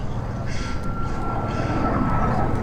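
A straight-wing jet trainer with wingtip tanks at an air show, a steady, loud engine roar and rushing whine that holds evenly throughout, with no voices over it.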